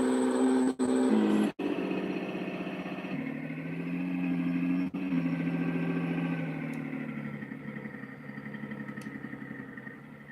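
A big Ford V8 engine idling steadily with a deep, even rumble, close and loud, with a couple of brief dropouts early on.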